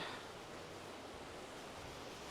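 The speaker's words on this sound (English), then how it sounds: "look how beautiful the water is as it's rushing down" Downie River water rushing under a bridge near Downieville in the Sierra Nevada, a steady, dense roar of flowing water filling the whole span, close and continuous without voices.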